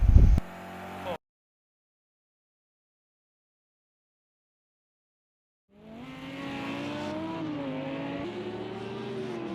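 A GT3 race car on a hot lap of Monaco in Project CARS 2, engine note rising and falling through gear changes, heard briefly at the start, then after a long silence returning as a sustained revving whine.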